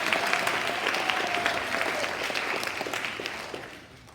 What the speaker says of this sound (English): So y'all give them a round of applause for that.